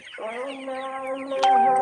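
Paragon colour bird chickens on a poultry farm giving a drawn-out, wavering clucking call up close, with a brief sharp click near the end.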